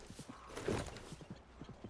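Quick, fairly faint clip-clop of a horse's hooves in Red Dead Redemption 2, a rapid, even string of soft thuds over a couple of seconds with a brief louder swell near the start.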